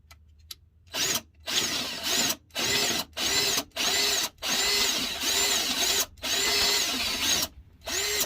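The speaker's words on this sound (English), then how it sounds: "So I just got to ream it out a little bit more." A power drill reams out a hole to fit a 3/8 fitting in a series of about eight whirring bursts of a second or so each. Brief pauses separate the bursts, the tone rises and falls with each run, and it is loud and close.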